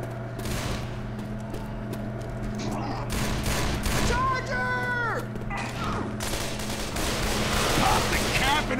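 Rapid gunfire in Left 4 Dead 2 during the Dead Air campaign: continuous fusillade of shots throughout, with players talking over the shooting and scattered game effects.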